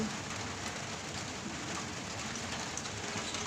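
Steady rain falls outdoors in a dense, unbroken hiss at moderate level, holding even and constant with no voices.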